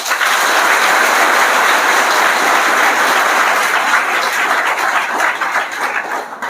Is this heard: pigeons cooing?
no